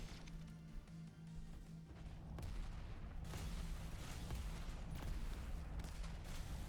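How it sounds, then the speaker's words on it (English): Rockets fire and explode in the fast arena shooter Diabotical, a dense, noisy barrage of blasts that swells after a couple of seconds and stays busy, with a steady low hum running underneath. "Some good rockets."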